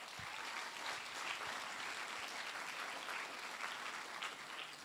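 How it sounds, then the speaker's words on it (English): Audience applause at a winter VR showcase event, a dense, steady wash of many hands clapping at moderate distance, sustained for several seconds without talk. "So big round of applause to all of those people as well"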